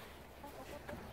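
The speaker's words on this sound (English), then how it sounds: "the chickens are also helping us, aren't they?" Chickens clucking faintly in a garden during planting with compost, soft scattered clucks amid low outdoor background noise, no talk.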